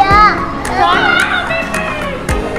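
Noisy children at the Manila Ocean Park oceanarium, shrieking and chattering loudly close by, with sharp bursts of shouting over a busy indoor hubbub.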